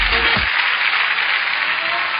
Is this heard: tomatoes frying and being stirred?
no